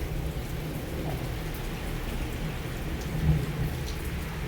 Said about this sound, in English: I think you guys may be able to hear this thunder.